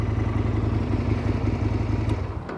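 Aprilia RSV Tuono Falco motorcycle engine running steadily at idle, a continuous low mechanical throb with light clatter, close and fairly loud, without speech.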